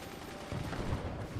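Massed mortar volleys fire in the physics strategy game Forts, a dense, continuous rumble of overlapping blasts that swells slightly midway, steady and heavy with no distinct individual shots.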